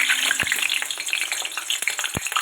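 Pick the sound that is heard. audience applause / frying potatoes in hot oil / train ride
frying potatoes in hot oil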